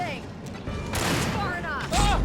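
Gunfire crackles in the Alan Wake video game, scattered shots and bangs mixed with shouting voices and combat noise over a short stretch.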